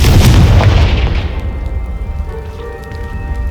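A Confringo blast spell explodes in Hogwarts Legacy on Xbox Series S, a loud booming burst at the start that fades into a rumbling, crackling tail.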